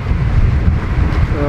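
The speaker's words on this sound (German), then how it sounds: "Wir haben aber 25 Knoten Wind." A strong 25-knot wind blows at sea off Corsica aboard a boat, a loud, steady roaring rush of wind across the microphone with no clear speech.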